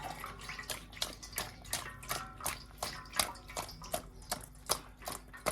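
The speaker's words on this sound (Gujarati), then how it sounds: "જો આ રીતના 2 પાણી આમ ધોવાના છે, જો આમ પાણી નાખીને એટલે કડવાશ પણ ન રહે" Bitter gourds (karela) being rinsed by hand in water in a bowl, giving a steady run of close splashing and sloshing with rapid repeated clattering strokes, no talk.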